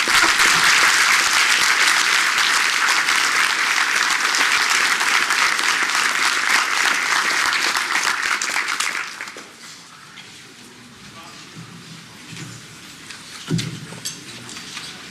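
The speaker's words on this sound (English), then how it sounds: "Please give a round of applause to these gentlemen" Hotel ballroom audience at a high school baseball coaches' hall of fame induction gives loud, dense applause for about nine seconds, then it cuts off into quiet room murmur with a brief thump.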